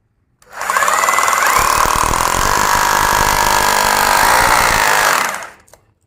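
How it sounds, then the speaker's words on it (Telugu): A 6mm hammer drill bit whirs up abruptly and grinds steadily into brick for several seconds, loud and close, then winds down and stops. "ఇటుకకు ఒకసారి డ్రిల్ వేసి చూద్దాం"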